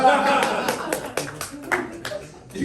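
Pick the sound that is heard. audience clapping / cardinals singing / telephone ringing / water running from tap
audience clapping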